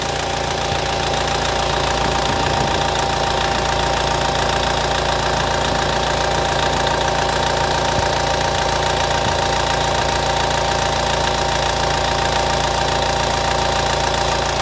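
A used SsangYong Kyron car engine idles steadily with a low knocking rumble and constant vibration, loud and close, unchanging throughout.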